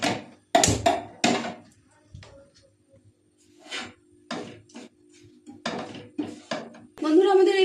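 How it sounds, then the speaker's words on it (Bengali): A metal pot clanks as it is set onto a gas stove in a home kitchen, a few sharp knocks and scrapes with a person talking over them, followed by a burst of hissing. "এবার এটা আমি গ্যাসের মধ্যে বসিয়ে দেব।"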